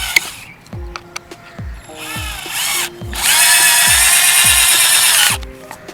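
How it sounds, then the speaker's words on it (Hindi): A power drill drives a screw into a piece of wood: short whirring bursts, then a long, loud, steady run, over a regular pattern of low thuds. "ये स्क्रू है, तो इसको हम अपने लकड़ी में लगा लेते हैं।"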